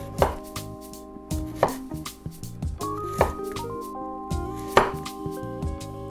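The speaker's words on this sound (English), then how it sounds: "And I'm just gonna cut my thin sticks." A knife chops potatoes into thin sticks for duck fat fries on a cutting board, sharp thuds and taps arriving in an uneven rhythm, close and clear.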